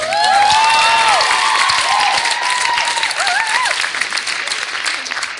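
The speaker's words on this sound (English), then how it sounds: "give him a round of applause" A loud crowd applauds and cheers at a high school student performance, with dense sustained clapping, whoops and high shouted voices rising over it before it settles into steady applause.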